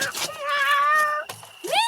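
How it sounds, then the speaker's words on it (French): A small cat gives two close, clear meows, the first drawn out and the second rising and shorter, with a soft rustle in between. "Oh, le petit chat de Caroline."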